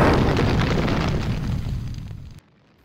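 An ignited cloud of flammable gas bursts into a loud, close roaring blast that rumbles for about two seconds, then cuts off abruptly into near silence.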